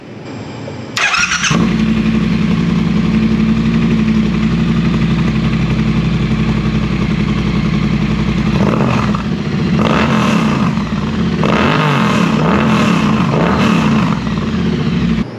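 A Triumph Bonneville motorcycle fitted with British Customs slip-on exhausts fires up, settles into a loud, steady idle close by, then gets several sharp throttle blips near the end, with no talk.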